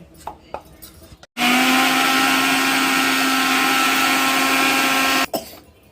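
A mixer grinder whirs loudly and steadily for about four seconds while blending homemade kumkum powder, starting abruptly and cutting off sharply, with faint handling noises before and after.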